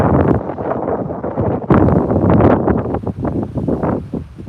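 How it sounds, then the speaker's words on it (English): Heavy, gusty coastal wind buffets the microphone in loud, low rumbling bursts that swell and fade continuously. "Sorry about the wind, you guys."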